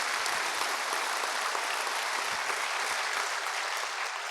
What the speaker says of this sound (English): Let's give them a round of applause for having that courage.